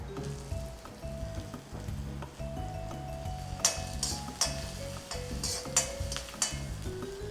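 Spring onion whites sautéing in hot oil for millet fried rice, a steady soft sizzle with a few sharp scrapes and clicks of the spatula toward the end, fairly quiet and close.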